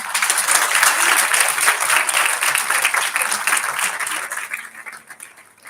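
Audience applause at a Hindi Diwas kavi sammelan poetry recital, a dense, steady wash of many hands clapping that thins and fades toward the end.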